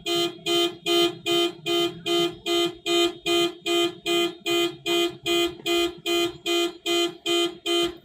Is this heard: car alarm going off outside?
yes